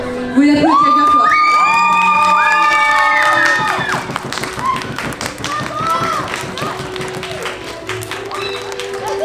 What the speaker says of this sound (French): Vous l'applaudissez bien fort.